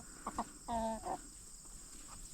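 A young rooster attempts a crow, producing a short, wavering, breaking call after a couple of brief clucks, fairly close against quiet farmyard background.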